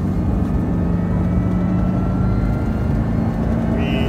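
A supercharged Subaru FB25 engine pulls under throttle, a steady loud drone with a constant low hum and a faint whine climbing near the end, with no speech.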